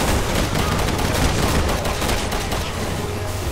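Sustained automatic gunfire from the video game Resident Evil 6, a soldier spraying rounds wildly into the ground, roars loud and dense throughout with rapid overlapping shots and no pause.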